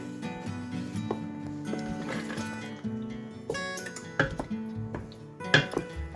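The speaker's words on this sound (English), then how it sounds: "Give it a quick stir." Meatball sauce stirred in a cooking pot for spaghetti and meatballs, with a spoon clinking and scraping against the pot in an irregular run of knocks that sharpen toward the end, heard close over a low background hum.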